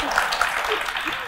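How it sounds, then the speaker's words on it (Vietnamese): Audience applause in a Vietnamese talk show about married life, a brief steady wash of clapping at moderate loudness with voices faintly mixed in. "Sao đến cái phần này nó vỗ tay cái nào"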